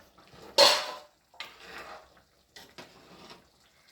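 A lid lifts off a pot of fish curry with one sharp metallic clank, then softer scrapes and knocks of metal cookware follow close by, with no talking.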